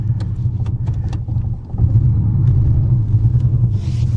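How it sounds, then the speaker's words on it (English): Idling engine of an abandoned barn-find Jaguar, parked for 20 years, misfiring. A low, uneven rumble with stumbling pulses runs throughout and grows heavier partway through. "Oh, now it's misfiring too."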